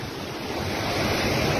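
Rushing floodwater of the river at Jamshoro near Hyderabad, Pakistan, carrying a huge flood flow, makes a steady, loud broadband roar with wind buffeting, continuous and without voices.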